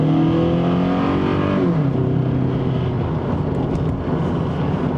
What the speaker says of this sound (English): It's got a loud exhaust, you know. Typical old car shit.